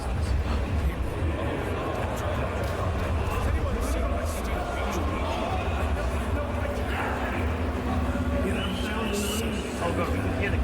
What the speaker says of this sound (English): Oh god, we can hear the crowd.